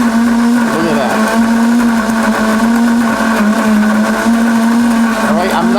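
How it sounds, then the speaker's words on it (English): Coffee maker with a built-in grinder grinding beans for four cups: a loud, continuous whirring motor drone with a steady pitched hum and gritty rattle, close and unbroken throughout. "It's a little bit noisy because, of course, it's grinding the coffee beans."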